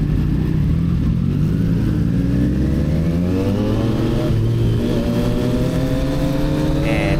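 A Triumph Street Triple motorcycle on Michelin Power GP2 tires accelerates hard, its engine note climbing steadily in pitch through the gears, loud and close, with steady wind rush throughout.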